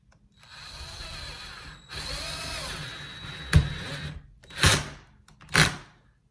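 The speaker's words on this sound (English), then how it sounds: "I'm going to go ahead and take my drill and screw in this wall anchor." A power drill drives a wall anchor into a house wall to mount a shelf, giving a steady whirring run of about two seconds followed by short ratcheting bursts and two sharp spurts near the end.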